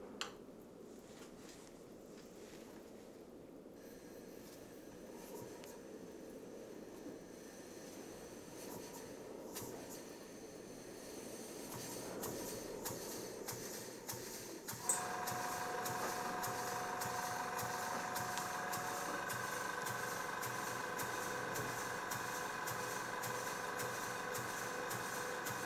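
Stuart half beam model steam engine running on compressed air, a soft continuous rapid chuffing and mechanical clatter that grows slightly louder midway, steady and close with no talk.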